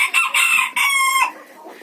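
Bantam hens and a small red rooster cluck and crow in a poultry yard, loud and close in short overlapping bursts with no talking.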